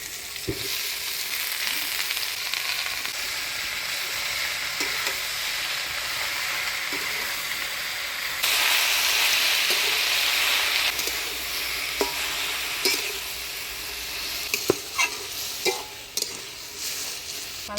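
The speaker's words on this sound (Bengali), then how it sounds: "শাকটা ভালো করে নাড়াচাড়া করে নিলাম" Spinach is stirred and fried in a pan of oil with potatoes and eggplant, a continuous nearby sizzle that surges louder for a few seconds, punctuated by occasional sharp clinks and scrapes of stirring.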